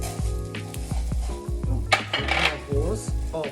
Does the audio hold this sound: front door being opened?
no